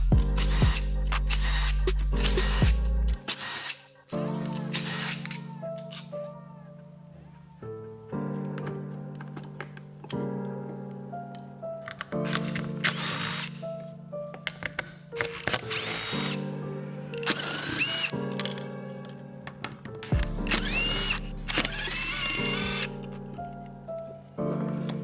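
Tools clatter and a power driver whirs in short bursts while the flywheel cover, flywheel and stator come off a damaged KX250F motocross engine, with clinks of parts and metal between, close and fairly quiet.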